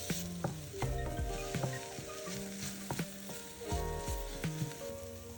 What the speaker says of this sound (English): Heat butter in a frying pan over low heat. Add the onion and cook until soft.